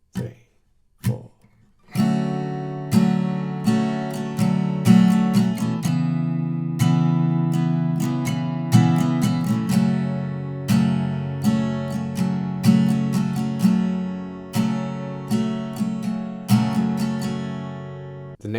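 After a few count-in taps, an acoustic guitar strums chords in a steady rhythm, each strum ringing out clearly.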